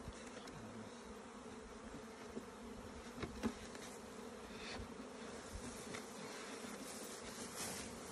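A dense, steady drone of honey bees buzzing around an open beehive as a honey super is added, many insects humming close by with no voices.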